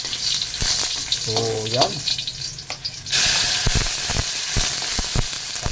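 Garlic crackles and sizzles as it fries in a hot pan, a steady hiss that swells louder partway through, with occasional clatter of stirring and brief speech over it.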